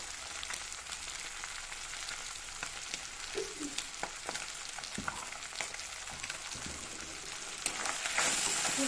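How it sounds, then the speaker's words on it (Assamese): Spices with cumin powder sizzle in a hot pan with a steady, soft crackling hiss, quiet and even throughout, with a few sharper pops and a slightly louder sizzle near the end. "লৰাই পেলাই ভালদৰে ভাজি ল'ম।"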